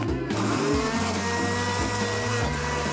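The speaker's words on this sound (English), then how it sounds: "I'll put it in the blender." A blender whirs steadily with banana, kiwi and raspberries inside, a loud and close motor drone with pitch shifts as the fruit churns, lasting the whole stretch.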